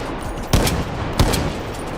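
Rifle fire in the Delta Force video game, two loud gunshots roughly seven tenths of a second apart over steady game background noise, with no talk.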